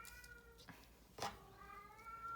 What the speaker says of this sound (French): Il y a mon chat qui miaule derrière la porte.